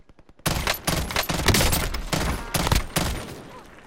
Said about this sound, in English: You guys are being shot at from over there as well?